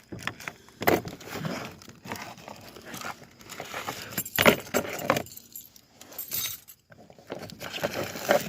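Close, bright metallic jingling of a set of keys, coming in several irregular shakes and rattles with quiet gaps between them.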